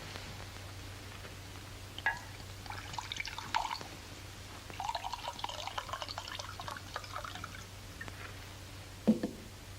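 Drinks poured into a glass in an old 1940 comedy film, faint splashing and trickling of liquid in a few separate bursts over a low steady hum, no talk.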